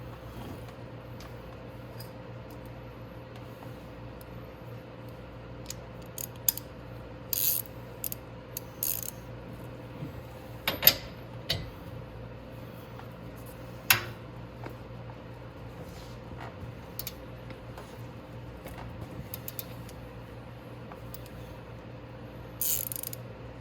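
A hand ratchet working 18 mm nuts off the rear axle of a Venom Mini Jeep 125cc, giving sparse, quiet clicking strokes at irregular intervals over a steady low background hum.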